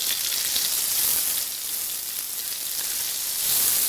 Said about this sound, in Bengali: পেঁয়াজটাও এবার একটু ফ্রাই করে নেব।